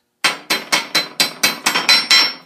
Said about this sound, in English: Now, let me just chip off the slag right there.